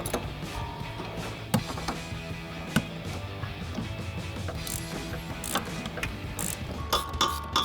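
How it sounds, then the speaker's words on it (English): A ratchet fitted with a deep 18 mm socket works loose a sway bar link nut on a 2015-2025 Ford Mustang, giving quiet rapid clicking with a few sharper knocks of metal. No voices. "we're gonna take a ratchet with a deep 18 socket, a 17 millimeter wrench, and take that off"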